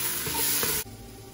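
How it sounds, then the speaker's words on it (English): Two small onions and a few garlic cloves sautéing in a pan, a loud close hiss that cuts off abruptly partway through and leaves a quieter sizzle. "First of all, I cut some 2 small onions and then 3 or 4 garlic cloves, and I saute them."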